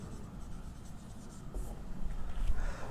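Pen writing on paper, heard as a faint, continuous scratchy scribble with light strokes and taps across three seconds, close up with no voice over it.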